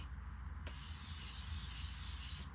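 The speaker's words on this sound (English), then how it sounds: "I'm going to spray my face first with my Morphe" Morphe setting spray misted onto the face: one steady, close hiss lasting about two seconds that starts abruptly and cuts off cleanly, with no talking.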